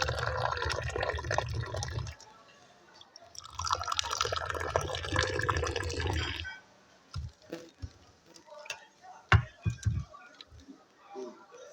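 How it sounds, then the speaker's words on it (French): Moroccan tea being poured back and forth to mix and aerate it, in Essaouira: two sustained bursts of splashing liquid, then scattered drips and small clinks, fairly quiet and close. "La préparation du thé est tout un art, bien le mélanger et l'oxygéner."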